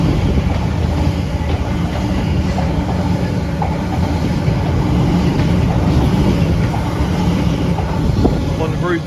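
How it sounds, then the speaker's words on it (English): Elizabeth Line class 345 electric train running past on the Great Western Main Line at Acton, a loud continuous rumble and rail clatter filling the scene, with a voice faintly underneath. "also passing by is a Elizabeth Line class 345"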